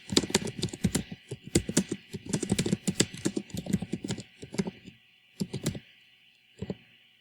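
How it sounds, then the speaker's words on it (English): Keys clacking on a computer keyboard while a heading is typed into a word-processing document, a close, busy run of rapid clicks with short pauses and a few final taps. "we are going to type our heading"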